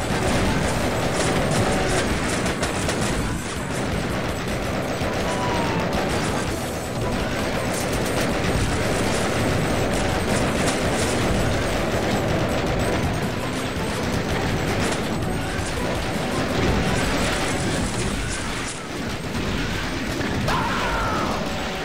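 Sustained machine gun fire in the Sven Co-op video game, a dense continuous rattle of rapid shots with crashing impacts, loud and unbroken for the whole stretch.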